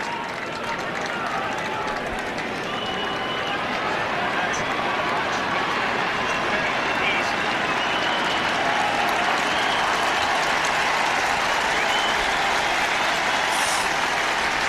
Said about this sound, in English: Declan O'Sullivan receiving a very warm round of applause, as is James O'Donoghue as they leave the fi